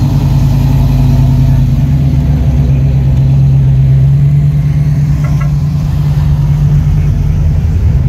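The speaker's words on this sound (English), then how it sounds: "And here comes some more Porsches." Porsche sports cars drive past at a 2020 concours d'elegance show, their engines a steady, loud, close rumble with a sustained hum that holds throughout.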